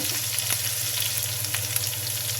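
Ginger, garlic and cumin paste sautéing in hot oil for prawn biryani, a steady close sizzle and fry with faint stirring scrapes throughout, no talk.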